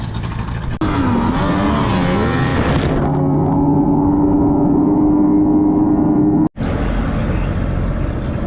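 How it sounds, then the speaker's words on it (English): A T850 race boat engine roars loudly on the water, revving up through rising pitch sweeps. It then settles into a steady high-speed drone, with a brief cut near the end. "We're just gonna go for a boat ride and see what happens."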